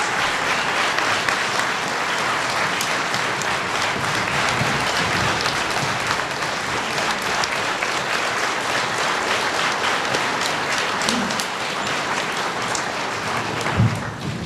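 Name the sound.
standing ovation applause for Cindy at a veterans salute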